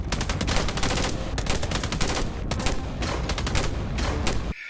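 Continuous rapid gunfire from movie guns loaded with blanks rattles loudly and without pause for several seconds, with sharp repeated cracks packed tightly together before cutting off.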